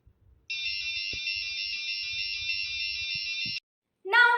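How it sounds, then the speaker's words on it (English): A buzzer on an Arduino UNO farm animal-intrusion alarm sounds one loud, steady high-pitched tone for about three seconds, then cuts off before a short chirp. "if the animal tries to disturb the farm, it produces a loud constant beep sound"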